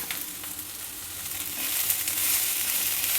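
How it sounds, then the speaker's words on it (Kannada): Cooked fresh pigeon peas go into a hot pan of oil, a steady hiss of sizzling frying that grows a little louder partway through, with no talking. "ಈಗ ಬೆಂದಿರೋ ಕಾಳನ್ನು ಇದರಲ್ಲಿ ಸೇರಿಸ್ತಾ ಇದ್ದೀನಿ"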